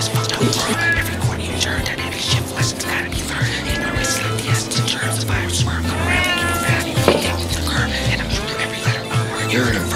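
A pet cat meows insistently indoors, several drawn-out cries scattered through the stretch, close and fairly loud, mixed with a person talking over them.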